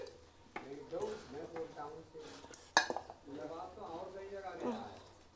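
Plates and dishes clink and knock as they are set out for an offering in a home kitchen, with one sharp clatter near the middle, while someone talks throughout the scattered handling sounds.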